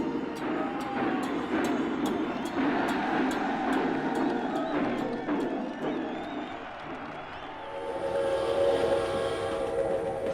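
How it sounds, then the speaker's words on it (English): A train pulls out of a railway station in Beijing with a steady rumble and rolling rail noise, while crowd sounds and repeated sharp clicks rise over it and a higher tonal whine comes in near the end. "a train departed from Beijing railway station"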